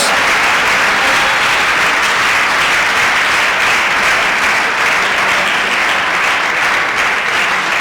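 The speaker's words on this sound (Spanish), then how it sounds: "dele aplausos a la gloria de Dios" Loud, steady applause from a Spanish-speaking church congregation at Sunday school, a thick unbroken wash of many hands clapping close by for several seconds without a break.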